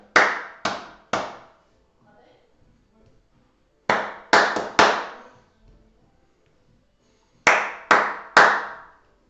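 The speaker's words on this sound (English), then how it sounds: "I'm going to clap a rhythm, and you're going to clap it back at home." Bare hands clapping a simple rhythm in a children's singing lesson: three sharp, close claps, a pause, then the same triple pattern twice more, separated by near silence.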